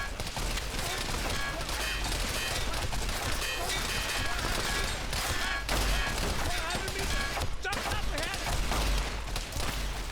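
Concentrated gunfire from a battle line in a video game space battle, dense continuous shooting and impacts layered with speech throughout.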